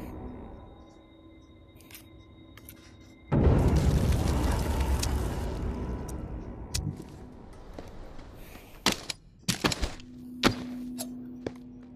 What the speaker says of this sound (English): I didn't think I was that close to the explosion.